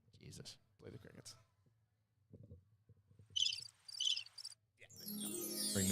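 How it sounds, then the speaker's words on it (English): A cricket chirping sound effect played over a stream at a powerlifting meet, with a few short high chirp bursts between bits of talk and background noise rising at the end. "Play the crickets."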